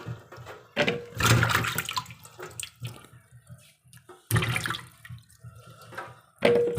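Taro roots (seppankizhangu) being washed one by one by hand in water, with bursts of splashing and running water in separate spells separated by quieter gaps, close and fairly loud.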